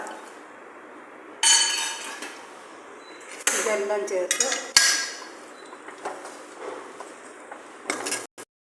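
Metal spoon scraping and clinking in a pan while upma cooks with carrot, coconut, almonds and curry leaves; irregular close clanks and scrapes in short bursts, alone without talk.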